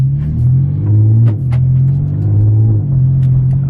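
A loud, deep exhaust from an Audi S4 (B8/B8.5) with new downpipes rumbles steadily up close, rising and falling through a few revs.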